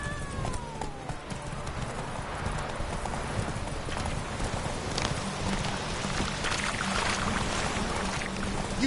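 Horse hooves clip-clop at a brisk galloping rhythm in The Witcher 3, steady and fairly close, over a continuous background of wind or ambient rustle with no talking.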